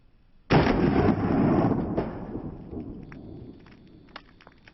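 A single loud .25 ACP pistol shot fired at a plastic milk jug outdoors, a sharp sudden blast that booms and rolls off over several seconds, followed by faint scattered clicks and rustles.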